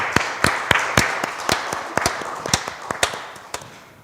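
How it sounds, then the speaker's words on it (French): Church congregation clapping together during a Sunday morning service, a series of sharp, evenly spaced claps about every half second, loud and close, with no voices over them. "Let's clap for the Lord."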